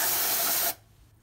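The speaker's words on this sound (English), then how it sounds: "I'm going to spray a little starting fluid" Starting fluid sprayed from an aerosol can onto the top of the carburetor of a 1971 Dodge Demon, one steady close hiss that lasts well under a second and then cuts off abruptly.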